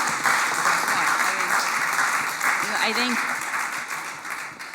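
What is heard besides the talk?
audience applause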